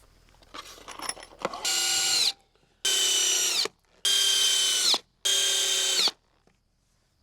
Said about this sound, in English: I can go ahead and commit to putting screws into the bases of these posts